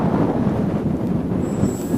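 Steady, heavy wind buffeting the microphone at an RC flying field as a 32-inch Crack Yak 55 model plane makes its maiden flight in strong winds, a continuous loud low rumble with no voices.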